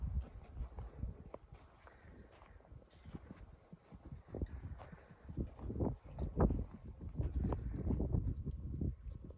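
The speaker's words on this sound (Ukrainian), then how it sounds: "Продовжую знімати свої коні." Horses walking, their hooves clip-clopping in an irregular, unhurried rhythm, fairly faint and mixed with light shuffling and background noise.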